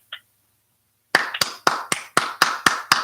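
A few hands clap over a video call in a small online Toastmasters meeting, the software muting most participants so only a handful come through as sharp, evenly spaced claps after a brief tap and a pause of silence.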